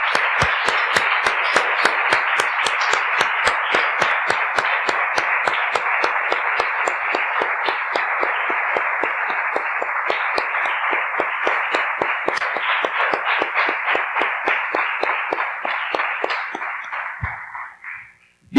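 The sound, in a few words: congregation applauding in church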